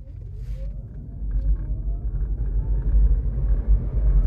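A 2023 Tesla Model Y pulling away hard from a standstill, heard from inside as a deep, swelling road rumble with a faint rising electric whine, steadily growing louder over several seconds without speech.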